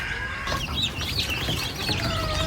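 Chicks peep and cheep in a brooder lined with cogon grass bedding, a busy overlapping chorus of many small birds calling steadily and fairly close throughout, with no talking.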